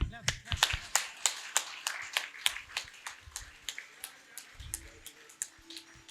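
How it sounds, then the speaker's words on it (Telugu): Group clapping for Gupta at a music and meditation gathering, a steady rhythmic beat of about twenty sharp claps in unison, moderately close, with faint voices underneath. "క్లాప్స్."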